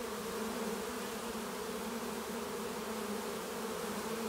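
A honeybee swarm being caught and coaxed into a hive under a held-up blanket, giving a steady, dense, close buzzing hum that carries on without a break for the whole stretch, with no voices over it.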